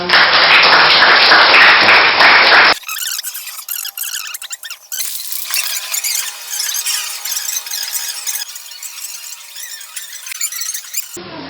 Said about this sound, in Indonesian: Ya silakan beri tepuk tangan untuk kelompok 4 yang sudah.